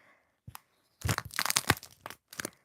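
A thin fabric face mask in rough shape being crinkled and crumpled by hand, giving a few brief rustles followed by a dense burst of crackling, tearing-like crinkles and a final short crunch, close up and alone.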